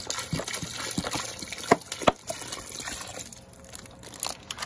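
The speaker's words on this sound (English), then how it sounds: "next you wanna top it off with some water" Water gushes and trickles into a container of turkey brine, topping it up so the bird is covered, a steady running pour with a few sharper splashy knocks midway.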